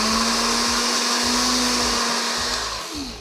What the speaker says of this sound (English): so that when you're blending it, you don't have to shake the blender